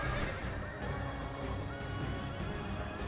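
Horses neigh and whinny repeatedly amid clip-clopping hooves and battle clamor in Medieval II Total War Kingdoms, a dense, loud cavalry din with no talk.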